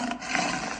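A tiger roar sound effect in a told story: a single loud, rough, sustained roar of under a second, heard alone and ending abruptly.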